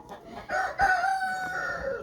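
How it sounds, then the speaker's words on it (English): Backyard chickens cluck and a rooster crows in a farmyard with goats, the crow rising loud and drawn out over softer clucks nearby. "my chickens are okay."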